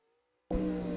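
A Chevrolet Camaro launches in a drag race at the U.S. Bracket Nationals: after near silence, a sudden loud engine roar bursts in and holds steady and close.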